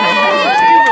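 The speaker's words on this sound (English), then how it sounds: "There's a big crowd." A big crowd at a child's akika party at night shouts and cheers together in a brief, loud burst of many overlapping excited voices close by.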